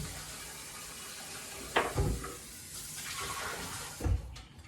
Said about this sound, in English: Now I'm gonna go over here and rinse it out.